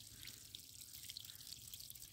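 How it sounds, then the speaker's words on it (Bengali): Water dripping from a natural spring at Rema-Kalenga, Chunarughat: faint, scattered light drips and tiny splashes over a soft steady hiss, with no voices. "এই যে ওটু ওটু পানি পড়তেছে"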